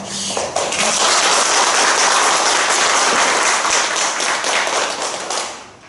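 An audience applauds a lecturing professor at the close of a talk: dense, loud clapping that starts abruptly, holds steady for several seconds, then fades out near the end.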